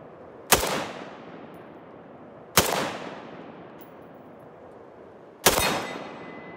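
Three sharp, loud single shots from a Pioneer Arms 5.56 AK rifle, spaced about two to three seconds apart outdoors, each cracking sharply and trailing off in a short echo.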